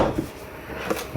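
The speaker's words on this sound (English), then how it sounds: "Let's go ahead and pull out this drawer." A drawer slides out of a Daggerheart Limited Edition game box set, with a brief scrape at the start, a soft rumble, and another short knock near the end. The sounds are close and moderately quiet.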